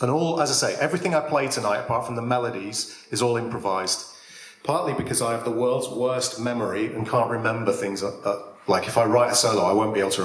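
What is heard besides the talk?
None of the usual background noises is heard.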